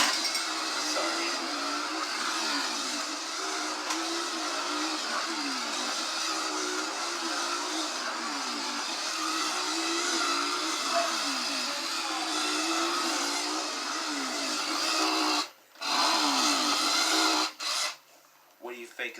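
An animated toy chainsaw prop runs with a continuous buzzing, whirring motor drone that cycles slightly, close and fairly loud, then cuts out briefly and restarts near the end.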